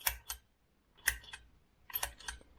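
Faint, quick clicks in small clusters from the turbocharger actuator of a Land Rover TDV6 diesel engine running its test cycle after the engine is switched off, a few ticks spread across a couple of seconds.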